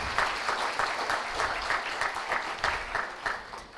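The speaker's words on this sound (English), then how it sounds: "Can we all extend a huge round of applause for them?" An audience at a panel discussion breaks into sustained applause, a dense wash of many hands clapping at an even level for a few seconds.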